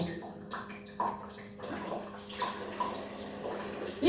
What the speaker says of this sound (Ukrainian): відкриваємо кран зливу.